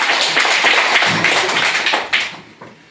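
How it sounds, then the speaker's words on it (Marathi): Children clapping together for a classmate during a primary school quiz, a burst of quick overlapping claps that thins out and fades near the end. "शीतलसाठी सगळ्यांनी टाळ्या वाजवा"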